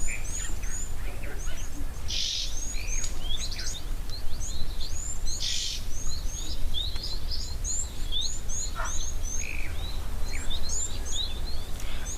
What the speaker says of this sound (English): why don't we head across to Lentor and see what birds are waiting for us